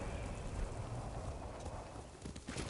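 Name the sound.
horse hooves in Ghost of Tsushima video game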